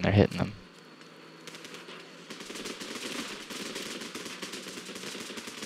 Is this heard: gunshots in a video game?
yes